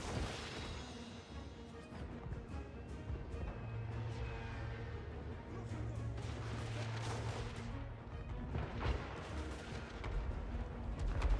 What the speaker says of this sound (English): I need the cannons to shoot at that.